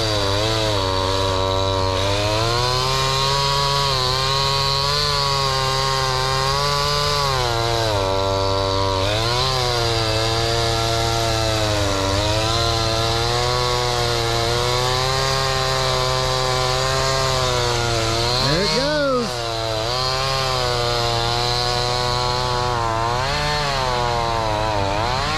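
A chainsaw runs loudly and close for a long stretch while clearing land, its engine pitch rising and dipping as it bites through butternut wood, with a brief rev near the end.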